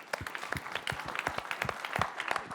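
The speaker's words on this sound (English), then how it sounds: "So a round of applause, please, to everyone." Applause from a conference audience, a brief burst of many hands clapping at moderate distance, fairly quiet and steady with no talking.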